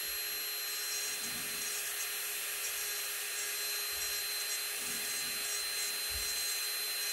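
Electric manicure drill running steadily while pushed-back cuticles are cleaned during an autumn manicure, a continuous high whine close up with faint low handling bumps and no talk.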